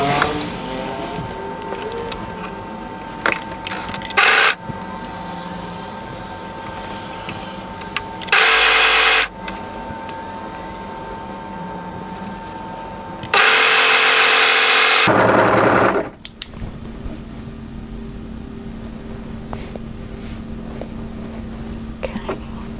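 A sewing machine stitches cardigan pieces together in several short bursts of loud whirring, separated by quieter pauses with faint handling noise and a background hum.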